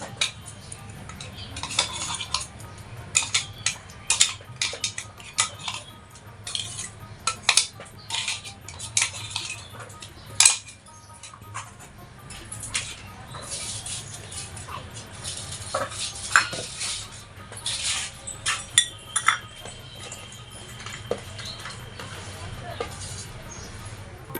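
Salt, oil, turmeric and a ground paste of cumin, ginger, green chilli and garlic are worked together in a pot, giving a steady run of small scraping, clinking and stirring sounds against metal that carry on through the whole stretch. A voice talks softly in the background.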